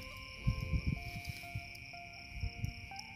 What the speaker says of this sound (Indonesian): Suara jangkrik banyak banget